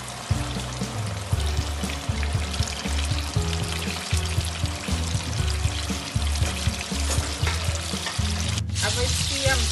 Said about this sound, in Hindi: अब तेल हमारा गरम है, अब हम फ्राई करते हैं।